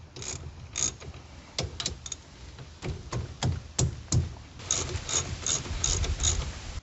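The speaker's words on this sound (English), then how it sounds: "So you're going to loosen that with a 14mm socket on your ZForce." A 14mm socket on a ratchet loosens the brake bolts of a CFMoto ZForce UTV, giving a run of close, sharp clicks and clunks, at first spaced out, then a quicker burst of ratcheting near the end, with no talking.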